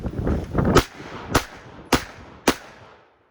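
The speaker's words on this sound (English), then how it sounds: "10 rounds, Glock 19 in the sand." Four sharp Glock 19 pistol shots fired during a sand torture test, spaced about half a second apart, each cracking loudly and ringing briefly outdoors after a rustling start.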